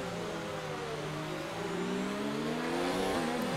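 An F1 race car in the game F1 2019, running at Bahrain while overtaking, holds a loud high-revving engine note that climbs steadily in pitch, with a second engine tone blending in as it pulls alongside.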